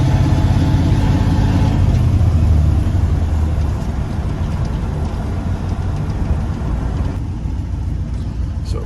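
Engine of a 1989 dump truck running steadily while driving, a dense low rumble that stays loud throughout and eases slightly toward the end, with no talk over it.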